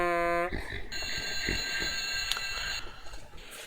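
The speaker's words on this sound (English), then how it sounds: "The alarm clock." A cartoon alarm clock rings with a loud, buzzy electronic tone that starts abruptly. Harsh ringing and clattering follow and carry on to the end.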